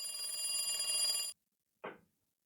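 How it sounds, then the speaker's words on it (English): Telephone bell ringing in the video game Higurashi When They Cry: a loud, steady electronic ring lasting over a second, then silence, then a short second burst of ringing. "The phone continued to ring."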